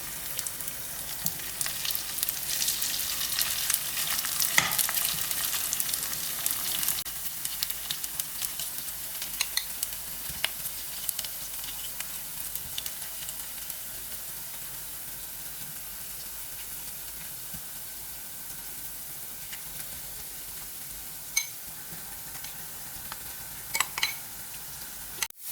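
Potatoes frying in hot oil for Potato 65 give a steady, close sizzle with soft bubbling and occasional stirring scrapes, fading slightly toward the end, with no talking.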